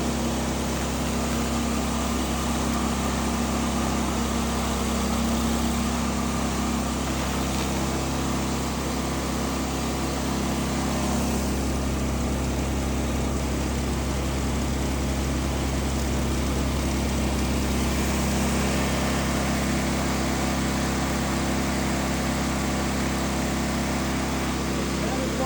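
A stump grinder skims rotted tree stumps down to ground level, its engine droning loud and steady with a constant grinding roar and no breaks throughout.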